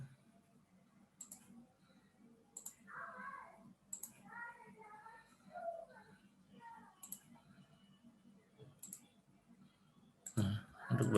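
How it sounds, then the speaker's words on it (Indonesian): Sharp computer mouse clicks at spaced intervals while drafting a floor plan, close and crisp, with a person speaking quietly between them and a louder clatter at the end. "Klik."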